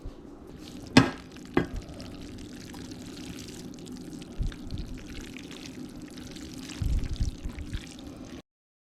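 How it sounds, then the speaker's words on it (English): Thick turkey tetrazzini mixture is dumped from a dish into a baking pan, with a sharp scrape and knock at the start, then soft wet plops and sliding sounds close by. "Now, I'm going to take and dump it in my pan."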